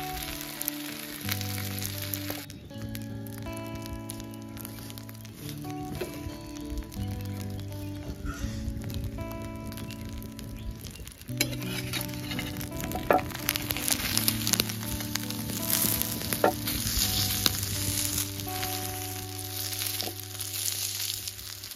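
River fish wrapped in banana leaf fries in a pan with a steady, soft sizzle and occasional crackles, running continuously under background music.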